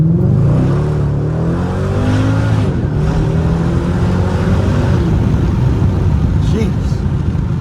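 A Mercedes W211 E55 AMG V8 exhaust revs loudly from inside the car while driving, its engine note rising and falling in sweeping pitch with occasional pops, steady and dominant throughout.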